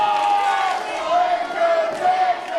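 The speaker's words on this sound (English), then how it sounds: "The crowd solidly again behind Jacksyn Crowley." Wrestling crowd at a CCW event cheering for Jacksyn Crowley, a steady wash of massed voices and shouts with a thin whistle-like tone over it, holding at a constant level throughout.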